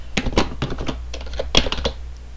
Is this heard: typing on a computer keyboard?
yes